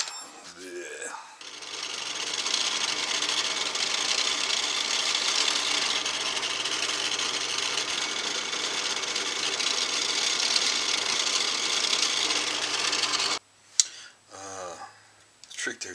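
Power tool grinding down inlays on a guitar fretboard, a steady abrasive whir that holds for about twelve seconds before cutting off, followed by brief handling noises.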